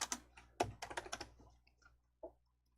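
Computer keyboard typing on a Hangul word processor, a quick run of clicky keystrokes followed by a pause and one final isolated key press, fairly quiet.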